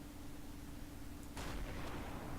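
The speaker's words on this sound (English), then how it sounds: "It'll probably just survive that hit, but that's a huge explosion." A Colossus heavy tank's cannon shell explodes in Garry's Mod, a sudden loud boom breaking over a steady background hum and tailing off into a rumbling roar.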